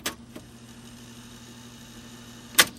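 A 1978 Sears Betavision VCR tape mechanism set to rewind: a sharp click, then a low steady motor hum, ending in a loud mechanical clunk.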